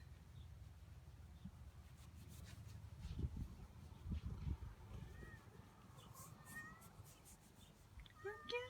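A pet cat meowing faintly a few times over a low, rumbling outdoor background, with the owner speaking softly nearby.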